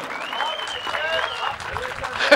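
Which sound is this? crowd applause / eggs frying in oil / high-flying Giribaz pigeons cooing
crowd applause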